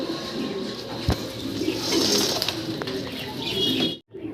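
Pigeons coo in a steady low murmur at a Bangladeshi pigeon market, with chirps and faint market bustle mixed in and a brief thump, before the sound cuts off abruptly near the end.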